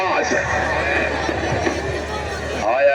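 Horses whinny and stamp in a noisy outdoor gathering, with hooves clopping amid a dense crowd murmur and voices talking throughout.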